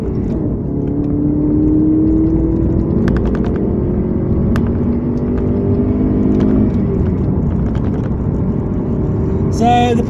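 Steady engine drone and road rumble from a 2002 Alfa Romeo GTV 916 cruising on open road, with gradual rising and falling engine tones inside the cabin for the whole stretch, a few faint clicks over it.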